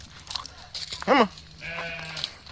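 A sheep on a farm gives one loud wavering bleat close by, amid other animal sounds, crunching and people talking.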